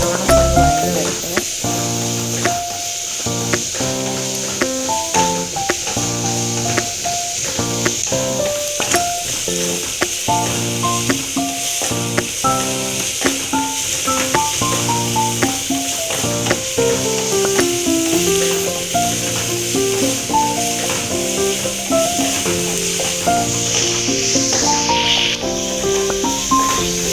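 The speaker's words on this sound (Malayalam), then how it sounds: "നല്ലോണം ഒന്ന് വഴന്ന് വരട്ടെ" Chicken curry masala sautés in a pan with a steady, continuous sizzle and hiss, punctuated by frequent clinks and scrapes of a stirring utensil.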